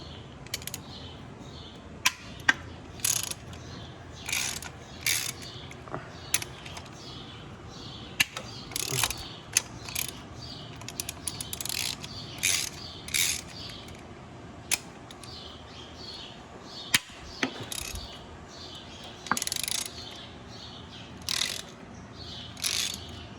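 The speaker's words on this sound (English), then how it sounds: "getting these bolts on this intercooler popped off" Hand ratchet clicking in short, repeated bursts while bolts are loosened from the intercooler of an Allis-Chalmers 7060 tractor engine, with sharp metallic knocks between the bursts, close and alone.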